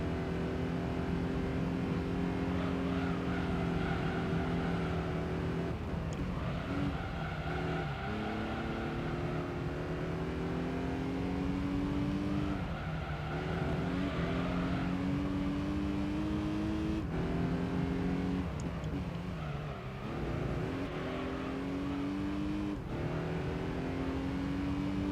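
A front-wheel drive race car engine in Gran Turismo 3 drones steadily at high revs, with brief dips and rises at gear changes every few seconds. No one talks over it.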